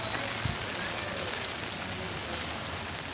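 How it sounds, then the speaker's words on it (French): Rain falls steadily on the streets of Alicante, a dense close patter with occasional louder drops striking nearby surfaces, continuous and even. "Il pleut, il mouille."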